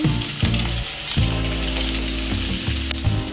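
Onions fry in hot ghee with cumin seeds, giving a loud, steady, close sizzle broken by clinks and scrapes of stirring.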